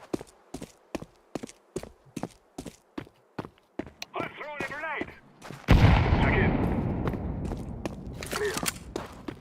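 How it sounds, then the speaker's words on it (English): Counter-Strike 2 gameplay: rapid sharp gunshots crack in a steady rhythm, then a grenade bursts into a loud, sustained rumbling blast, with a voice talking over it. "I'm throwing a grenade"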